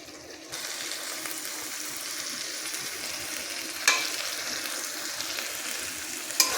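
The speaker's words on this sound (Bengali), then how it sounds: "এখনো কষানো চলছে।" Bombay duck fish curry being sautéed in a pan, a steady loud hiss of sizzling and frying that starts abruptly and runs throughout, with two sharp clinks of a utensil against the pan.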